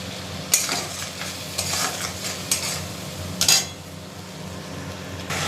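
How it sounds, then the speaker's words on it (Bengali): Potato and cauliflower curry with tomato sautéing in a pan: a continuous sizzle under repeated clattering stirs and spoon scrapes against the metal, close and fairly loud. "একটুখানি জল দিয়ে দিচ্ছি, ভালো করে কষিয়ে নেব।"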